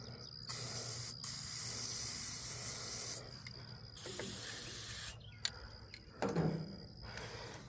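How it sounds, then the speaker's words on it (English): Spray hisses in long bursts from an aerosol can onto a part of a broken tractor on a newly bought farm, with short pauses between the bursts and a few clanks. "Just gonna keep spraying."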